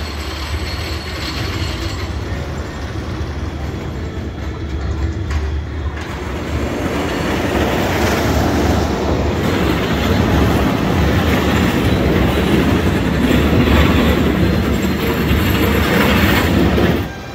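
A roller coaster train at Six Flags Fiesta Texas rumbles along its track, a steady rolling roar with rattling wheels that swells louder and closer midway and stays loud.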